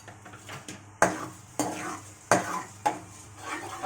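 Cut amla goes into coconut oil in a pan over low heat and is stirred. About five distinct metallic clanks and scrapes of a spoon against the pan ring out over a faint sizzle, close and fairly loud.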